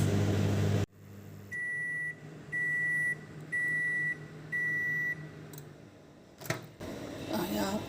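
A microwave oven is set to full power for four minutes: four evenly spaced keypad beeps ring out over a steady low hum, followed by a clunk and some handling rustle.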